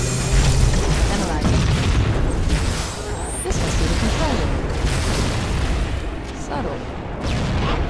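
A plasma grenade blast in a Halo game comes through as loud, heavy booms and rumbling blasts, with several strong bursts that carry across the whole span amid ongoing combat noise.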